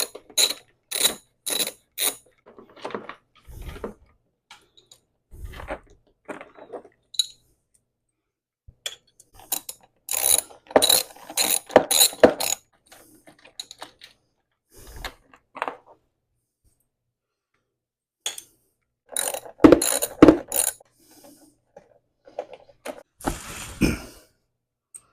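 Bolts being removed from a Honda Ruckus scooter give sparse metallic clicks and clinks of a hand tool, coming in short bursts separated by quiet gaps.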